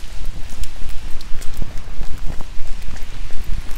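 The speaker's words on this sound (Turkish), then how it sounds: "Dışarıda da bayağı bir yağmur var." Heavy rain outdoors, a loud, irregular patter of drops striking nearby surfaces with gusty rumbling underneath and no talk.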